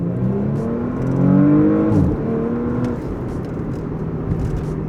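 A Porsche Panamera 4 E-Hybrid pulls away hard in Sport Plus mode, its engine note rising in a steady whirring climb that swells then settles into a sustained drone, with no talking.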